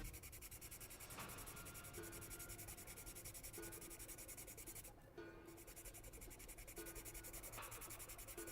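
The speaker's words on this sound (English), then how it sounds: "let's just do a little more sanding with the sanding pad" Sanding pad rubbed over a plastic part from an MG Hyaku Shiki 2.0 model kit, producing a steady close scratchy rasp that continues in repeated strokes with no talking.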